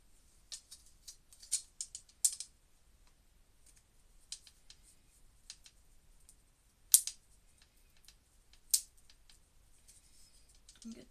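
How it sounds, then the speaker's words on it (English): Scissors snipping into a small split in a piece of wood while making a dream catcher: sparse, sharp clicks and short cuts at close range, a few louder snips scattered across a quiet background. "now get your pair of scissors."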